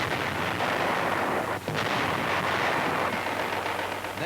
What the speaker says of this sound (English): the big guns are ready to go into action and pound the Hun